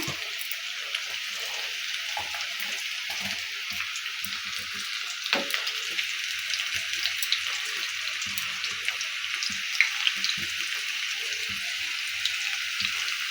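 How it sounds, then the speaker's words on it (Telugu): Onion pakodas frying in hot oil over a low flame give a steady, dense sizzle that holds at an even level throughout, with small pops and crackles breaking through and no voices. "కొంచెం కొంచెంగా మనం వేసుకున్న ఆనియన్స్ని పకోడాని చిన్న చిన్నగా ఆయిల్లో వేసుకోవాలి"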